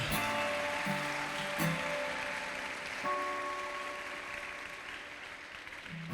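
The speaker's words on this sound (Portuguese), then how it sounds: "Aplauda Jesus por isso" A church congregation applauds during a Portuguese-language sermon, a steady, moderately distant wash of clapping that sustains for about six seconds with faint tonal sounds beneath it.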